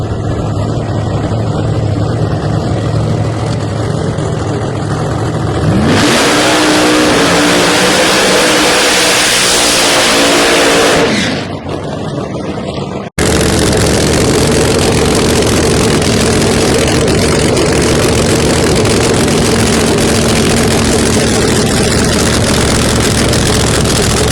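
Pro Nitrous and Pro Boost drag race cars rev and roar at an elimination round, a loud, sustained engine blare with a rising pitch sweep partway through and continuous heavy engine noise afterward.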